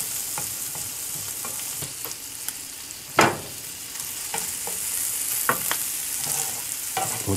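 Bob Evans original breakfast sausage fries in a pan, a close steady sizzle with scraping and stirring clatter, including one sharp knock partway through.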